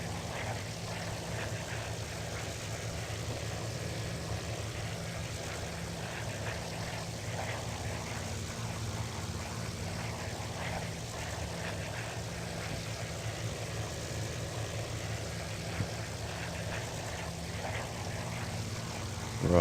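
Spitfire WWII fighter in flight in the FSX flight simulator, a faint, steady propeller-engine drone held at reduced throttle, continuous and even for the whole stretch, with a little muffled talk.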